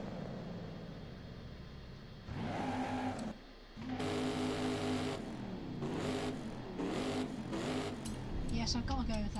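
A car engine with a newly fitted exhaust in Forza Horizon 5 revs in repeated bursts, rising and dropping between short pauses, with someone talking over it.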